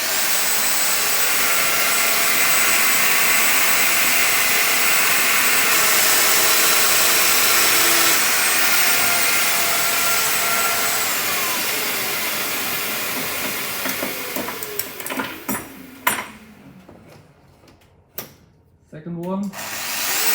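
A Festool Domino DF 700 joining machine runs with a loud, steady motor whine that gradually tapers off and spins down. Short mechanical clicks and handling noises follow near the end.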